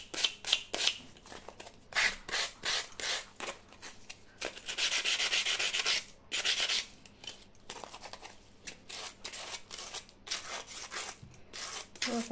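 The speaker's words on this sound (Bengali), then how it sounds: "দেখো, ভিতরটা এরকম করে ঘষে নেব।" Scrubbing the inside of an old kajal container, a close, rough rubbing in quick rhythmic bursts with brief pauses between strokes and one longer continuous scrub in the middle.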